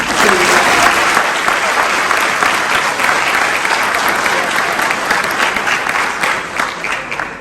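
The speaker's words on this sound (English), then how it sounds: "Give her a round of applause, please." Audience applause at a Veteran's Day ceremony honoring a guest named Rhonda, a dense, steady clapping that holds at full strength for several seconds before thinning slightly at the end, with faint voices mixed in.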